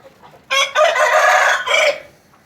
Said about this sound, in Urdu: اور اب جیسے مرغوں کو علیحدہ کیا ہے اور اب اس کی شور شروع ہے